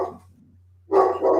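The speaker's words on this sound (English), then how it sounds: "my dogs are making all kinds of racket" Several dogs bark in short bursts at close range, a yelp at the start and then a loud cluster of barks after a brief pause, over a low steady hum, with no talking.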